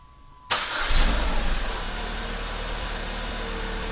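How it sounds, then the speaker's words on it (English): A 2014 Jeep Compass engine starts by remote starter with a sudden crank and catch, briefly revs up, then settles into a steady idle, heard close with no talking. "To activate the remote starter, press the button on the handheld remote for 3 seconds. The parking lights will come on and the vehicle will start."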